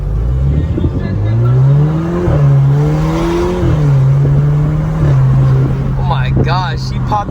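A muffler- and resonator-deleted Alfa Romeo Giulia revs hard through several gears, its loud raw exhaust rising and falling in pitch with brief shifts between pulls, while people talk excitedly over it.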